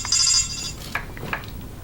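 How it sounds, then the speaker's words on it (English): A phone ringtone plays a short, bright electronic melody near the start and stops after about half a second, leaving a quiet room with a few soft knocks. "That's my phone ringtone."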